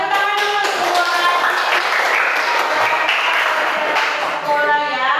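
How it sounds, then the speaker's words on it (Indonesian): A school class claps together for a few seconds, a dense burst of applause from many children with voices mixed in. "tepuk tangan dulu semua."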